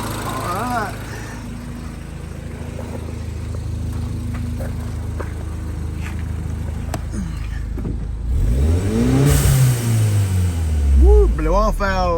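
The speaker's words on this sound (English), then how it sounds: "Seems to be idling really good." A Mini's engine idles steadily and close, with a few sharp blips and clicks, before revving up and down in rising and falling sweeps near the end.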